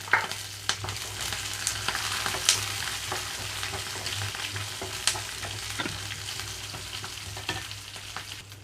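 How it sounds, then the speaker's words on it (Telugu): Fresh grated coconut and green chilies fry in a pan for a bottle gourd chutney, giving a steady, close sizzle with frequent scraping stir strokes and small pops throughout. "పచ్చి కొబ్బరి అలాగే పచ్చిమిర్చి వేసి వేయించుకుంటున్నాను"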